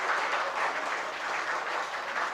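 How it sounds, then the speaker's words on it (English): An audience at a finishing school program on 3D printing and additive manufacturing applauds, a steady wash of clapping heard at moderate distance and fairly soft, continuous throughout with no voices. "May I request our esteemed audience to kindly give a round of applause."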